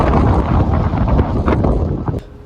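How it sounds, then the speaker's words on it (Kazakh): Strong wind gusting across the microphone at an outdoor LRT stop, a loud continuous buffeting roar with rumbling low gusts and brief clatters, no speech. "Қатты жел болып тұр."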